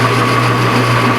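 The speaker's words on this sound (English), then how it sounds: "in the background my saw's running" A saw running steadily in a home workshop, a constant droning whine with a low hum underneath and no talk.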